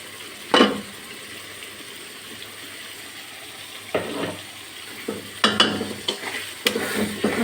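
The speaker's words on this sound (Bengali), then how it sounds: "ব্লেন্ড করা মশলাটা দিয়ে দেবো" Blended spice paste sizzles in a pan amid a low background hiss, with several short bursts of loud spattering and stirring scrapes that grow busier toward the end.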